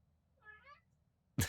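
A small cat gives a soft, brief murr of a few rising chirps, fairly faint and close, followed by a short louder burst of noise at the end; no speech.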